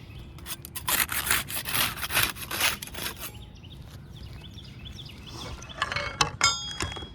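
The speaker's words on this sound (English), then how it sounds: "We'll use the putty knife to unseal the top shingle." A putty knife scraping under roof shingles to break their seal, heard as repeated close rasping strokes in quick succession that give way to quieter scraping and a few sharp clicks.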